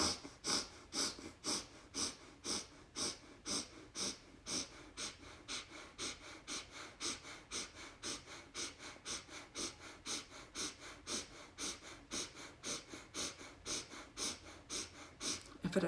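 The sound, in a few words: even inhale and exhale through the nose, breathing exercise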